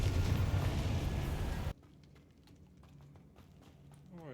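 The Confringo blasting curse explodes in the Hogwarts Legacy video game: a loud, dense roaring blast that cuts off abruptly, followed by quieter scattered footsteps and small effect sounds.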